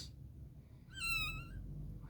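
A mother cat that has just given birth meows once, a drawn-out, rising-then-falling cry close by over a low indoor hum.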